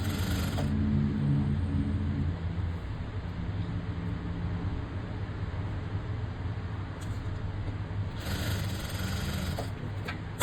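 A sewing machine running a continuous line of stitches across fabric pieces cut for blouse piping, a close, steady mechanical whir that barely changes and is heard alone without speech.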